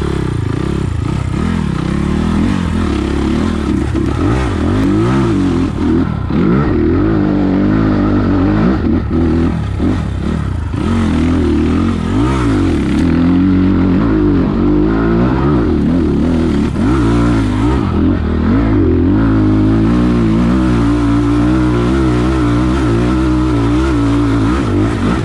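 A new 2020 SSR SR300 Chinese dirt bike is ridden, its engine revving and rising through gears continuously with clattering, loud and close, and no talk over it.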